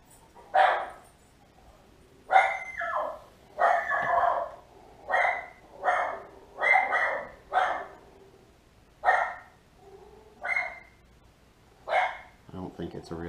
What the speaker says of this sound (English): Anything that bounces when it barks isn't a real dog.